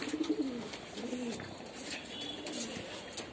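Soft, low pigeon cooing close by, a couple of rolling coos over a faint background hiss, no talking.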